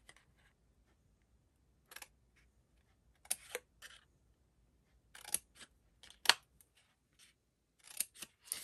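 Scissors snip through cardstock to make a straight cut and tabs for a retro desk caddy, in several sharp bursts of crisp snipping separated by quiet pauses, close and alone.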